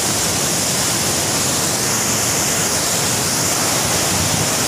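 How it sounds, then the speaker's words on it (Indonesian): A natural waterfall in a Kalimantan forest, swollen and very forceful after rain, roars as a steady, loud, broadband rush heard from very close, unbroken throughout and with no voices. "kita ketemu air terjun yang sangat alami, tapi airnya agak besar dikarenakan tadi hujan dan juga airnya sangat deras."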